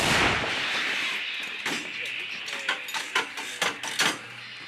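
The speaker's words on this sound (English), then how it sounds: "Gun, shot." An FH-70 howitzer fires in the field: a heavy blast at the start, then a series of sharp cracks and metallic clanks at irregular intervals, moderately distant, with no talking.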